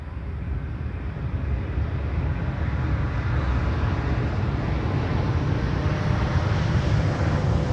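An Airbus A330neo airliner at Amsterdam Schiphol Airport makes a loud, steady broadband engine roar with wind rumble, continuous and close throughout, no talking.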